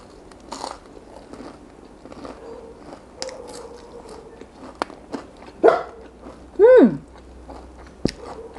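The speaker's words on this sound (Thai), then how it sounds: "อย่าเห่าลูกอย่าเห่า" A pet dog indoors lets out two short, sharp barks or yelps in quick succession near the end, over quiet crunching and chewing of fried chicken at a home meal, with a final faint click.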